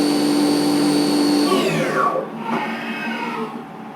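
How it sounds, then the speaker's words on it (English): A milling machine cuts screw-clearance holes in a bolt action pen part with a smaller end mill, a loud steady motor whine with a high tone that drops in pitch as the spindle slows, alone without talk. "Now it's going to switch to a smaller end mill. So now it's switched to a smaller end mill, and we'll put 2 holes in"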